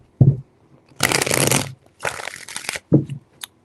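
Tarot cards being shuffled by hand in three distinct riffling bursts, each preceded or followed by a short soft tap of the deck, close and clear with no talk.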